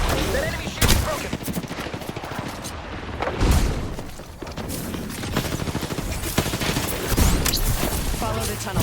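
Rapid gunfire from a video game shooter rattles loudly and nearly nonstop, with bursts and booms layered over one another and occasional voices mixed in underneath.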